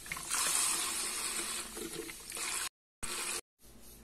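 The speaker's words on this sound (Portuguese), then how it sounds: "O vinagre eu vou pôr aqui então, um desses." Vinegar poured into a glass jar while preparing seasoned Japanese cucumber, a steady hissing liquid stream close by that runs for a few seconds before cutting off, then a brief further splash.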